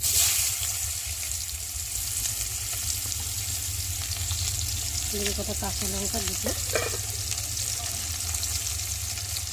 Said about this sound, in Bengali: তেলের মধ্যে এখন পেঁয়াজগুলো দিয়ে ভালো করে ভেজে নেব।